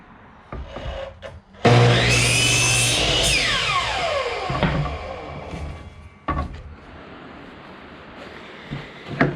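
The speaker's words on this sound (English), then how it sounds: "go ahead and screw them in like so to top and bottom of the frame" A power drill whirs in one loud burst, winding down as it drives a screw into a cedar planter frame, followed by scattered knocks and handling clatter.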